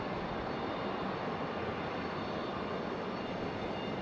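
A large military C-17 transport jet at Raleigh-Durham International Airport gives off a steady, broad engine roar that holds at an even level throughout, with no talk over it.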